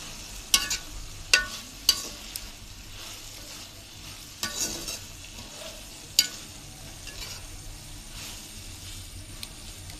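A jackfruit seed and onion stir-fry is stirred in a pan, sharp scraping spoon strikes at irregular intervals over a quiet, low sizzle.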